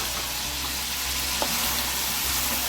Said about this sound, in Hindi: अब ये प्याज 2 मिनट फ्राई करने के बाद मैं लहसुन का पेस्ट डाल दूंगी